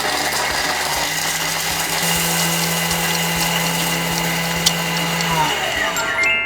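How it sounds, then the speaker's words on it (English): Thermomix grating cubed Parmesan cheese at speed 10, a loud whirring, grinding motor with a steady high-speed hum for several seconds that winds down at the end, no talking. "this great Parmesan cubed, like it's asking in the recipe, and we're going to put it here"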